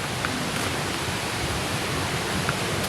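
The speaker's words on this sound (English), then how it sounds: "So there is water that is coming from the coffee" Wastewater from a coffee factory flows in a steady, loud rush, a continuous hiss with no breaks and no voices.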